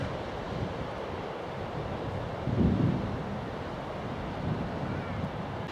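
Sea waves wash on the beach along the Cromer coast, a faint broadband surf hiss with wind noise and one slightly louder surge midway.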